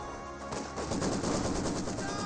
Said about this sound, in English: the machine gun Gewehr is getting some good suppression there